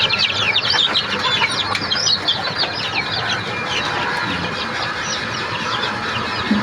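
Desi chickens on a poultry farm cluck and chatter continuously, a loud, dense flock sound with many overlapping calls and no talk.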